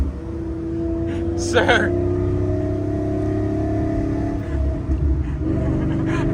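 Procharged Ford Mustang Cobra engine rumbling steadily at close range, a low throbbing drone running under nearby voices of people talking throughout.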